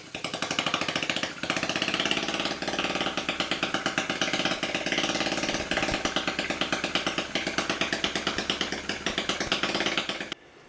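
A Lister D stationary engine, warm and started by hand, chugs in a fast, even, close mechanical beat for about ten seconds, then stops abruptly.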